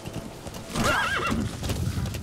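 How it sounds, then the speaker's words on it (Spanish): A horse in the video game Metal Gear Solid V: The Phantom Pain, its hooves clip-clopping steadily while it gives one clear, wavering neigh partway through, loud and close. "Este caballo es todoterreno."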